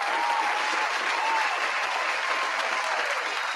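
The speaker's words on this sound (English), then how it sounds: "Let me give a quick round of applause." A short, steady burst of applause from a crowd, even and continuous from start to finish.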